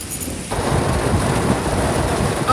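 A thunderstorm with heavy rain: a loud, dense roar of pouring rain with a deep rumble of thunder, starting abruptly and holding strong throughout.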